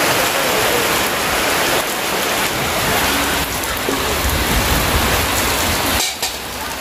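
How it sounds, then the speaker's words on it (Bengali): Heavy rain comes down hard and steady, a loud, dense roar of drops hitting surfaces close by, easing slightly near the end. "বলতে বলতেই চলে আসলো ধামাকাদার বৃষ্টি"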